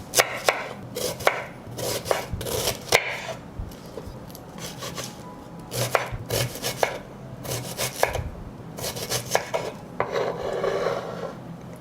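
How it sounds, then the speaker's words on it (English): A knife chopping onion on a board, sharp irregular clusters of close, crisp cuts with brief pauses, no talking. "I will cut the onion."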